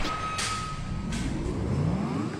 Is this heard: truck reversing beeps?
yes